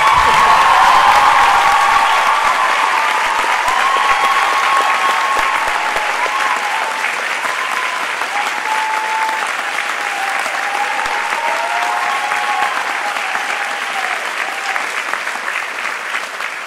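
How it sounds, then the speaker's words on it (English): Audience applause at a benefit a cappella concert, a dense, sustained clapping from a crowd that stays loud and steady throughout with only a slight fade toward the end. "I want you guys to give her a wonderful round of applause"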